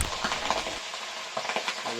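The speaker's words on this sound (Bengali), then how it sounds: "বোম ফোটার মতো আওয়াজ হয়" Pabda fish frying in mustard oil, a close sizzle broken by quick popping spatters and stirring clatter, fairly quiet overall.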